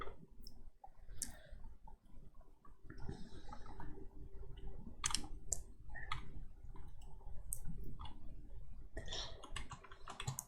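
Scattered computer keyboard key presses sound while modelling in Blender, with sharp, irregular clicks and taps against a quiet room hum and faint background noise.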